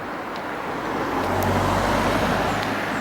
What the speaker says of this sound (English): Bear with me, car passing.